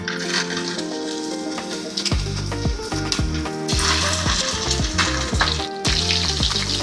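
Chicken pieces crackle and sizzle loudly in hot oil, a dense continuous frying hiss with rhythmic scraping and clinking of a utensil stirring in the pan.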